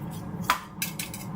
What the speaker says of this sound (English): I've got a great stainless steel garlic crusher, courtesy of my wife. You squeeze it